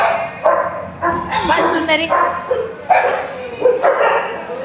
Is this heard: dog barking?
yes